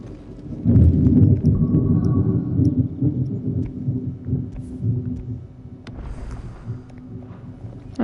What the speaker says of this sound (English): That was a loud rumble of thunder for me.